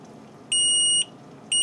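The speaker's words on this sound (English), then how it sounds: "it should beep a few times." An Orico 2-bay drive enclosure gives two loud, steady electronic beeps as a clone starts, each about half a second long with a pause between, over a faint room hum.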